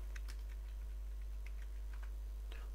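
Keys clack on a computer keyboard while text is typed during editing in Adobe Premiere, a sparse series of quiet taps and clicks over a steady low electrical hum, with no voices.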